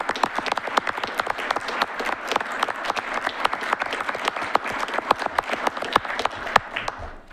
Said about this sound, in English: I think we should just give him a round of applause.